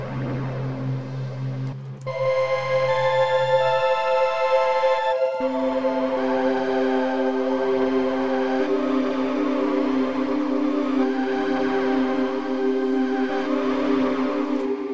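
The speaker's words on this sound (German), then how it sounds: "es gibt auch noch den Chorus aus dem Juno" A synth in Arturia Pigments 3 with the Juno chorus effect, playing sustained chords and notes that shift after a couple of seconds, lush and wide, loud and continuous with no voice over it.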